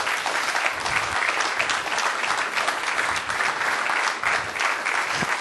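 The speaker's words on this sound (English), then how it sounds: "Let's give them a round of applause." An audience at a startup pitch event gives a sustained round of applause, loud and continuous for over five seconds with no break.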